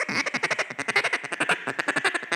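A duck call blown hard and fast, a steady string of loud, raspy quacks in quick rhythm, close and harsh with no pause.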